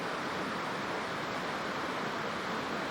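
A backcountry waterfall rushes in a continuous, dense, steady roar that stays even and fairly loud throughout, with no voices or other distinct sounds on top.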